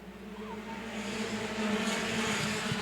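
Mini stock race cars roar around the Angola Motorsport Speedway oval just after a green-flag restart, a steady blended engine drone that swells slightly, heard from a distance with no voices.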